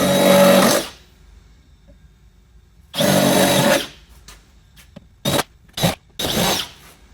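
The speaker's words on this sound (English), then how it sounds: "you're actually going to want to drill out those holes to match the rivet nut diameter." A power drill bores out the holes in a Jeep JL fender flare bracket for rivet nuts. It runs in several close, loud bursts, two longer runs and then a few short pulses, with quiet gaps between them.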